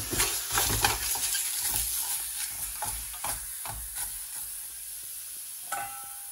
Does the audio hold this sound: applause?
no